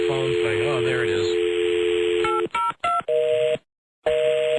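Telephone dialing tones play on a radio broadcast as a rapid sequence of short touch-tone beeps with gaps between them, loud and clear, following a steady tone and a voice talking.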